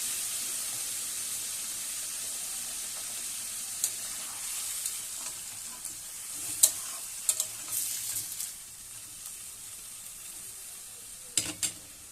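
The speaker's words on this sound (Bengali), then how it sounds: "অল্প করে জল দিয়ে দেবো মশলাটাকে মাংসর সাথে কষিয়ে নেওয়ার জন্য" Spiced masala with a little water sizzles around country chicken in a pan, a low continuous frying hiss punctuated by scattered spoon scrapes and clatters, busier toward the middle and end, with no talking.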